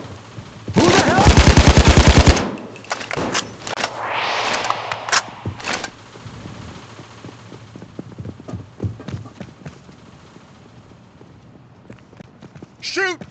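In the heist shooter Payday 2, a loud, rapid burst of automatic gunfire roars up close, then scattered single shots and clatter follow under shouted voices, trailing off into quieter sporadic bangs.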